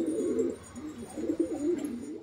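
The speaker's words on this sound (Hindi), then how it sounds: "बहुत ही बेहतरीन कबूतर, ये देख सकते हैं आप।" Pigeons cooing inside a loft of high-flying birds: soft, throaty repeated coos overlap continuously at close range, with no voices over them.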